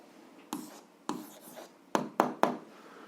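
Pen strokes on paper while working out an algebra answer: five short scratchy bursts, close and fairly quiet, with a pause after the first two and a quick run of three at the end, no talking.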